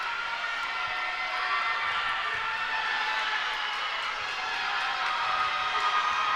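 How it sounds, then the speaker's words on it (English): A packed high-school boys basketball gym crowd roars and cheers steadily through a free throw, a dense sustained wall of voices with no break. "The crowd showing all they have tonight"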